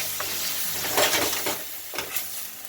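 Green beans with garlic, salt and pepper are stirred in a sizzling pan, a steady fry hiss broken by a few louder scraping clatters of the utensil, close and with no voices.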